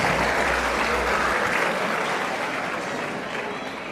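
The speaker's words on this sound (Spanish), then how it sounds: "Démosle un fuerte aplauso para este hermano que viene a compartir con nosotros." Applause from a church congregation welcoming a guest speaker, a dense, steady roar of many hands clapping that carries through the whole stretch and eases slightly toward the end.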